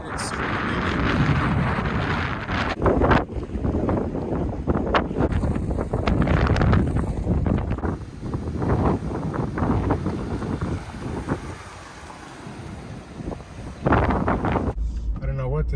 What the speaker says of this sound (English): And it's super windy.